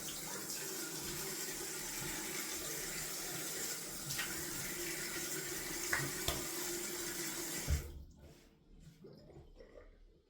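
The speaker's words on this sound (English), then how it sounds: "Okay, cold water rinse again." Cold water runs steadily from a tap for several seconds during a wet shave rinse, with small splashes and knocks, then shuts off, leaving quiet.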